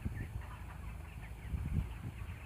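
Broiler chickens cluck and murmur softly throughout a closed poultry house, a faint, continuous flock chatter close by with no voices.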